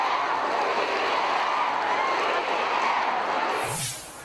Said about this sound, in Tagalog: Palakpakan at hiyawan kasi ang sumalubong kay PBBM sa jam-pack na event.